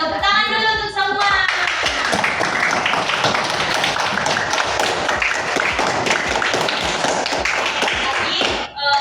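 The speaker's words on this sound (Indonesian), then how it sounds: "Tepuk tangan dulu untuk semua." Schoolchildren in a combined fourth and fifth grade class clap their hands together, a dense, steady patter of many hands filling the room for several seconds after a brief voice at the start.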